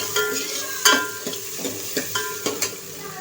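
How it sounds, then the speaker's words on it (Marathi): Onion and capsicum being sautéed in a pan for sweet corn soup, with a steady oil sizzle broken by several sharp scraping stir strokes, close and moderately loud, no voices. "लगेचच आपण कांदा, शिमला मिरची टाकून परतणार आहोत।"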